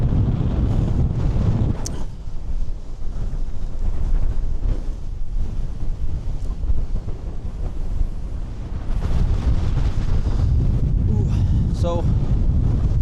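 Strong gusting wind of about 25 to 30 mph on an exposed Lake District fell summit, buffeting the microphone in a loud continuous roar that surges and eases, with no speech.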